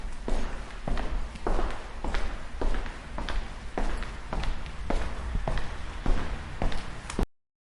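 Steady, heavy footsteps thud at an even walking pace, about a dozen close-up steps, then sudden silence.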